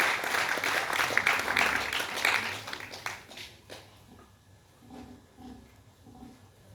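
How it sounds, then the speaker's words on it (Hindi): An audience at a Hindi book launch ceremony claps to welcome Ashok Chakradhar. Dense applause lasts about three and a half seconds, then dies away to a quiet room with a few scattered claps. "एक बार तालियां बजाकर आप स्वागत करें आदरणीय"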